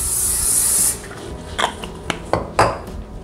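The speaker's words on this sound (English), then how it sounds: "I'm going to spray my crock pot." A short hissing burst of cooking spray into a crock pot comes first, followed by a few light clinks and scrapes of the pot and utensils.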